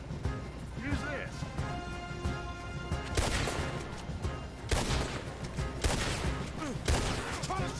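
Video game gunfire from a shootout at a blocked road: loud bursts of shots and crashes come in repeated clusters over busy game sound, with voices talking now and then.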